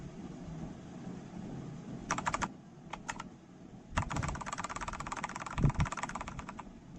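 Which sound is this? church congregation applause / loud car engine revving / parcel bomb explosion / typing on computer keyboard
typing on computer keyboard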